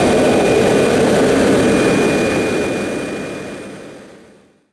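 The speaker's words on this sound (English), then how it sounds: "pretty regular annual visitor for us, in the form of the Detroit Red Wings MD-81." The Detroit Red Wings' McDonnell Douglas MD-81 jet at Calgary International Airport gives a loud, broad engine roar with a faint steady whine riding on top, and the roar slowly fades away.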